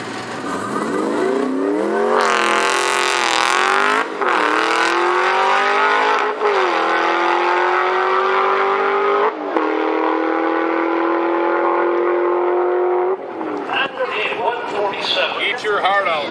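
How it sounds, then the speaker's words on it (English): A Toyota Prius fitted with a Hellcat V8 engine revving hard and climbing through gears, loud and close, with rising pitch sweeps between shifts and a rougher burst near the end. "Toyota Prius with Hellcat engine?"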